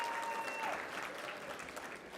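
An audience at an awards luncheon applauds steadily, a dense wash of clapping from a roomful of people that carries on evenly for the full couple of seconds.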